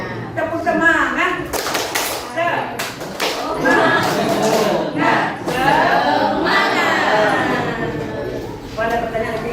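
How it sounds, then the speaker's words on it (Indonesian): An audience at an Indonesian teacher training session performs a 'tepuk semangat' spirit clap, with patterned rhythmic claps and chanting voices mixed with talk, close and fairly loud. "Tepuk semangat."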